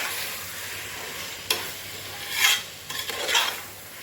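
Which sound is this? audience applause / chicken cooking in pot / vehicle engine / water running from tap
chicken cooking in pot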